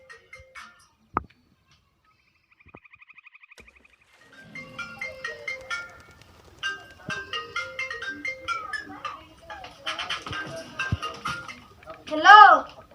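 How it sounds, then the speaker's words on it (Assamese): A mobile phone ringtone plays a repeating electronic melody over several seconds and builds louder toward the end, with a short beep earlier and voices talking underneath. "ধূলি ফোন মাৰিছে।"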